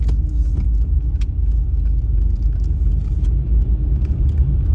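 Interior road rumble of a car driving east on Route 30 in Lancaster County, a steady loud low drone throughout with faint intermittent clicks and rattles on top, no talking.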